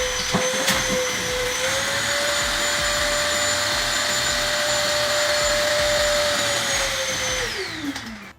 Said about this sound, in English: Wet, dry shop vacs suck up any mess without blinking.